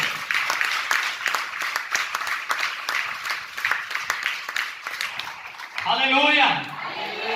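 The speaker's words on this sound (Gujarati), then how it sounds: "જોરદાર તાળી આપો" A church congregation claps in a dense, rhythmic burst lasting several seconds, then a voice speaks loudly as the clapping fades.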